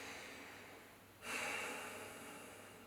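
A single nasal exhale pushed out onto the fingertips during a Reiki Gassho meditation, a soft breathy rush that swells up after a quiet pause and then slowly fades, close and gentle with no talking.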